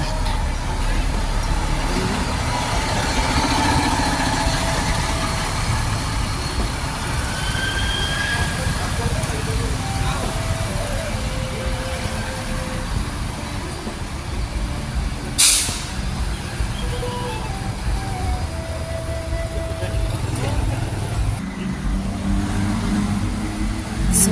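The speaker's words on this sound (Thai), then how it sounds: "นี่ก็จะเป็นรถนครชัยนะคะ ขาเข้านะเป็นสีกรุงเทพ สุรินทร์นะคะ" A Nakhonchai Air intercity bus in Bangkok–Surin colours rolls into the Surin bus terminal, its engine rumbling steadily under terminal background noise, with a sharp air-brake hiss partway through.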